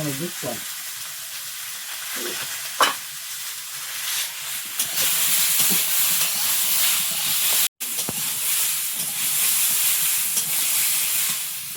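Taro sizzles steadily as it fries in a pan with salt, turmeric and chili, with occasional scrapes and knocks of stirring over a continuous loud hiss.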